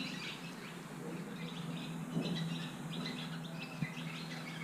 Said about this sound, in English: Oh, they're not bats, they're birds.